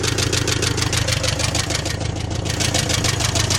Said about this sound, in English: yeah, it's making a pinging noise, but that don't mean anything.